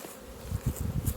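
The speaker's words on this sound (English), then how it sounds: "You can see the bees are getting quite cranky." Honey bees buzz around an opened hive being worked on during a hive beetle trap check, a low droning hum with uneven swells as the colony grows agitated, fairly close and without speech.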